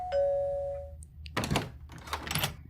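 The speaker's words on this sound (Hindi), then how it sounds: "तभी डोरबेल बजती है।" A doorbell chimes once with a clear sustained tone, followed by a couple of dull knocks or door thuds.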